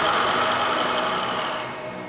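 Diesel generating set runs steadily inside a sound-insulated test room, a dense continuous mechanical engine hum with a rattling buzz, easing slightly toward the end.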